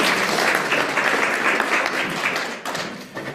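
An audience claps steadily for a presenter at a trail hiker center orientation, dense applause lasting throughout and briefly dipping near the end.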